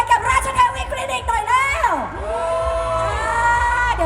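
A crowd at a clinic branch grand opening in a shopping mall shrieks and cheers loudly, high-pitched screams rising and falling over a thumping music beat, close and energetic.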